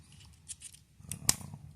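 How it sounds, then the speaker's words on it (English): Victorinox multitool scissors give a couple of soft snips and one sharp clipped cut, close and alone with no talking. "Victorinox scissors."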